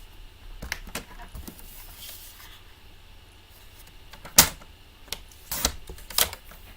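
A Tahitian Tide cardstock mat being cut for card-making, with a few sharp cutting clicks and snaps late on over faint handling noise, close and quiet.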